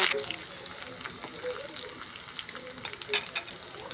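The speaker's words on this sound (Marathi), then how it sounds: "आपण जिरं टाकू आता हिरवी मिरची टाकू लसूण टाकू पत्ता टाकू" Cumin, green chilli, garlic and curry leaves sizzle and crackle steadily in a hot oiled pan for a home-cooked dinner, a close, continuous frying hiss with occasional sharper pops.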